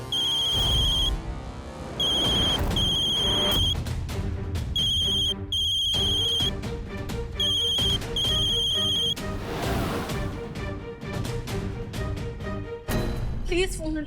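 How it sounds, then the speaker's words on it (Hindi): An electronic phone ringtone trills in repeated bursts over loud dramatic background music, with short pauses between rings. "प्लीज फोन उठाइए मल्हार जी।"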